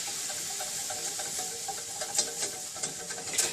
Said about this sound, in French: Et là, on remue bien.